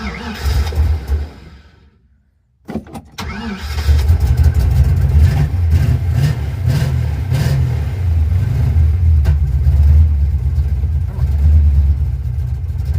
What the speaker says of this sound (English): You gotta keep feathering the throttle. Ooh, backfiring to the carburetor.